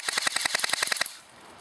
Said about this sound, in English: I'm going to put it on full auto and let's get a rate of fire test